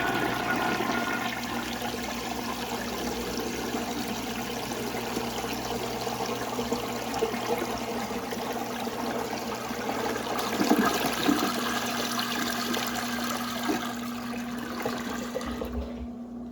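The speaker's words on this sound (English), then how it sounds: "All right, I'm gonna give you guys a little flush." A 1937 Standard compact toilet gives a strong flush, a steady rushing and swirling of water that runs close and loud for over fifteen seconds before draining away at the end.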